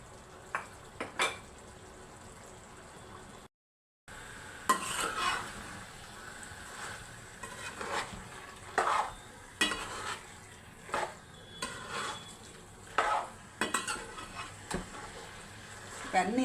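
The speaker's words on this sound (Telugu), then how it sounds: "ఇవన్నీ వేసి కలిపిస్తాం కదండి." A spoon stirs garam masala and spices through chicken curry in a pan, with irregular scraping and clinking of metal against the pan over a low sizzle, under quiet talk, with one brief silent gap.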